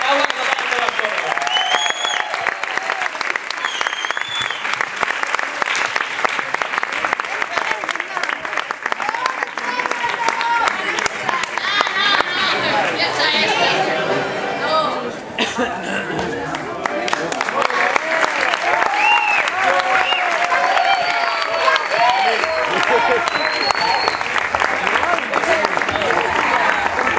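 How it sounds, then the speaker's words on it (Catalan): A crowd at a children's nativity play (Els Pastorets) at a school event claps loudly and continuously for nearly half a minute, the dense applause holding steady with a brief dip midway and some faint voices mixed in. "Demanem també un fort aplaudiment per la Maria Pissarra"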